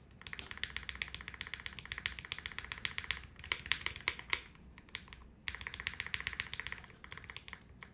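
Rapid clacky keystrokes come from a Zoom65 V2 prototype mechanical keyboard with PBT keycaps, steady fast typing with brief pauses, close and clear with no voice over it.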